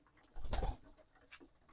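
Pigeons on a pigeon farm give a short burst of soft cooing up close, with quieter bird sounds trailing after it.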